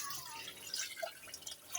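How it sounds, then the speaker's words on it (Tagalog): Water poured into a cooking pot holding simmering native chicken, a faint close trickle with small splashy drips over a couple of seconds, no voices. "Lalagay tayo ng tubig."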